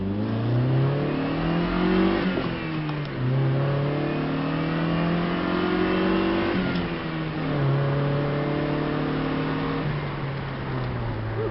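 A Saturn SC2 from the 1990s, weighing 2,300 pounds, revs up and accelerates, rising in pitch through gear changes, loud and close, with no talking.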